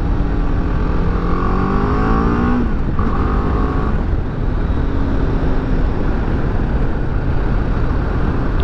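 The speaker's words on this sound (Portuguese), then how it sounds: "Esticar um pouquinho aqui o motor." A BMW G310GS motorcycle engine on a test ride revs up in rising sweeps, then eases back, repeating the climb before settling into a steady running drone under wind noise.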